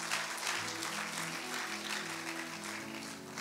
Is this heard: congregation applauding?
yes